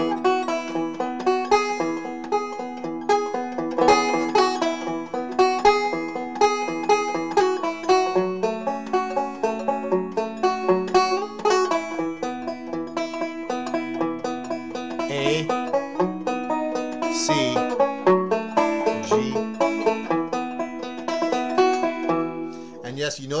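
A banjo plays a slow arpeggiated lead part, steady plucked notes rolling up and down through chords, close and continuous for over twenty seconds with no talk.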